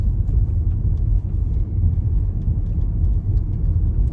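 A car rolls over a rough, patched county road; its tyres make a steady, heavy low rumble with faint irregular thumps from the uneven overlay, and no voices.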